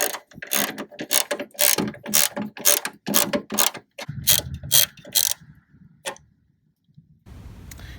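A 10mm ratchet clicks in quick repeated bursts while loosening a tailgate bolt on a 2005 Toyota Tacoma Standard Cab, close and loud, slowing into a few scattered clicks and a brief pause.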